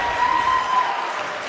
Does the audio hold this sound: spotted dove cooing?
no